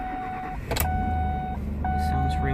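A Ford Expedition with a replacement engine cranks and starts, the engine catching near 0.7 seconds and then idling steadily and close, with a high whine from a warning chime and a brief voice later on.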